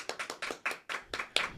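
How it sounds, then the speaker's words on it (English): A few people clapping for a podcast guest in a small studio room: close, uneven bursts of hand claps in quick succession, brief and dry. "Cue the round of applause for Dr."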